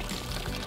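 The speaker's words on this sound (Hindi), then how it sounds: "इसे एक बॉक्स में डालकर पानी भर दे।" Water is poured into a box holding a mermaid doll, a brief, steady splashing pour heard up close.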